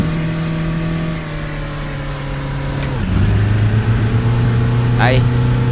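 Bus engine in Tourist Bus Simulator revving hard, a loud sustained drone that drops and resettles into a higher strained pitch, with someone talking over it.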